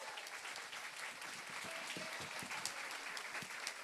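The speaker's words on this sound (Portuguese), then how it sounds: "Salva de palmas" An audience at a community event breaks into applause, dense crowd clapping with a few sharper individual claps standing out, fairly soft and continuous throughout.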